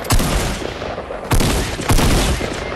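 Pump shotgun blasts in the video game Fortnite: three loud, sharp shots spaced about a second apart, each with a booming tail, and no talking.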